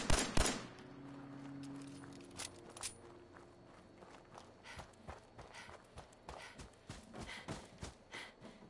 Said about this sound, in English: Random gunfire time.